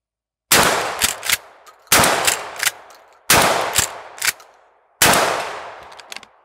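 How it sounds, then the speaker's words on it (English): Loud blasts from a Mossberg 500 shotgun fire four times at a steady pace, and each one is followed by clanging ringing hits as steel plates drop onto a rack. "you can hear the hits when the plates fall down on the rack"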